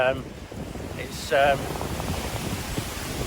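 Strong wind buffets the microphone on an exposed fell hillside in the Lake District near Haystacks, a steady broadband roar under brief speech.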